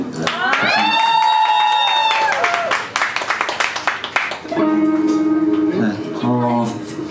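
A crowd applauds the bassist during a live band concert on a Friday night. Steady clapping continues for several seconds over sustained instrument notes, dips briefly, then rises again.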